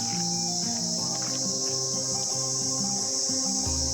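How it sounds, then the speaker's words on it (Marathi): Night crickets chirp in a steady, continuous high trill through a quiet outdoor setting, with faint low tonal sounds running underneath and no talking. "ते पाखर ते रातकिडे म्हणतात."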